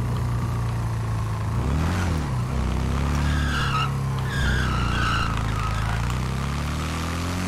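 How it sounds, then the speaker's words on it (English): Car in GTA V sliding into a drift, with a sustained tire squeal and skid over a steady engine drone, the screech rising and warbling midway through. "I'm gonna drift it."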